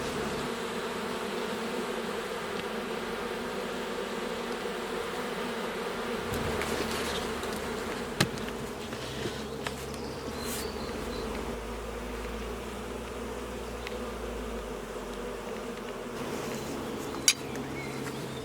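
A swarm of about 20,000 honey bees around a national hive, making a dense, continuous buzzing hum that stays fairly steady and close, with a few faint knocks.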